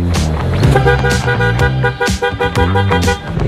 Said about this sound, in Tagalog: Napansin ko kasi yung busina ko parang humina. Ayun o, ang hina.